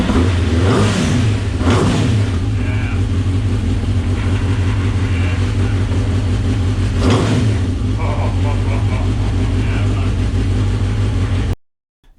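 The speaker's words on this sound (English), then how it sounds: "And then it was time to see if the engine still runs." A motorcycle engine fitted in a car revs loudly and continuously with a steady low drone, rising in a few sharp surges, then cuts off abruptly near the end.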